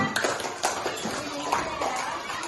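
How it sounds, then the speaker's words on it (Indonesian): A group of children breaks into scattered, uneven clapping, with talking and chatter mixed in throughout. "Tepuk tangan"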